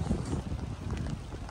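Wind gusts across a hilltop bluff edge in rainy weather, buffeting the microphone with a steady, close, rumbling roar throughout.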